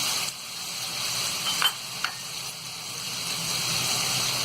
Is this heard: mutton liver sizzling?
yes